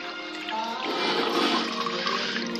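Liquid, not plain water, is poured into a cup with lemon, giving a brief, close, continuous splashing gush that swells and then holds for a couple of seconds.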